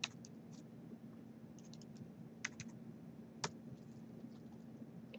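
A few sparse, quiet keystrokes tap on a computer keyboard over a low electrical hum, with scattered single clicks and short bursts and no speech.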